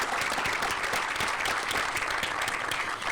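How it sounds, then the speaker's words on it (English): A crowd claps steadily at an outdoor sports park groundbreaking, honoring a group of schoolchildren; dense, even applause from many hands continues throughout at moderate volume, with no voices rising above it. "so a great round of applause to them,"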